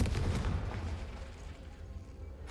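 A Confringo fire spell goes off in a wizard video game, a heavy booming blast up close that rumbles loudly at the start and then fades into a lingering low roar.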